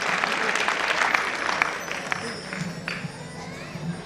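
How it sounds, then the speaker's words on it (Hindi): An audience gives loud applause for a sweet voice at a 2012 science event, dense continuous clapping with some crowd noise, sustained for several seconds. "इसकी मीठी आवाज के लिए जोरदार तालियां।"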